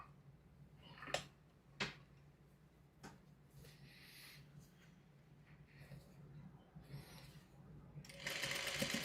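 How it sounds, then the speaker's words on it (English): Near the end a sewing machine runs in a fast, steady whirring burst, top stitching fabric, after a quiet stretch with a few sharp clicks and soft handling sounds. "we'll just top stitch this down"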